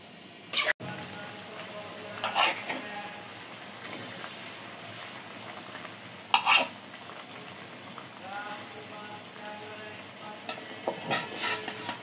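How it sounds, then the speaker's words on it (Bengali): Kalia river fish simmering as a bhuna in a pan gives a low steady sizzle with occasional stirring clatters of a spoon, fairly close, with no talk. "মাছটা যেহেতু একবারে ভুনা ভুনা করবো"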